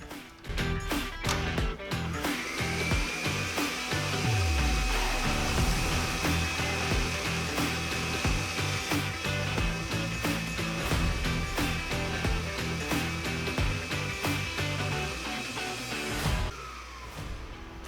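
An electric mixer beats cream and egg yolks, its loud, steady motor whine running almost continuously with the beaters rattling and scraping against the bowl before it stops near the end.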